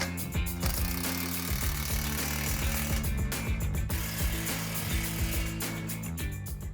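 Hand tools ratchet and clank while clamps are tightened on an AWE Touring cat-back exhaust on a 2024 Mustang, steady mechanical clicking and scraping close by under a continuous dense background.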